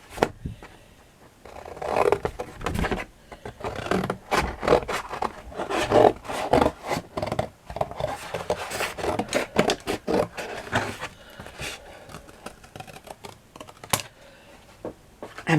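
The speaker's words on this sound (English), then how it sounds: "Now this one I'll have to cut with the bigger scissors." Large scissors cutting fabric to cover parts of a 1:12 scale miniature Queen Anne chair, a long run of irregular crisp snips and rustles at close range, with no one talking.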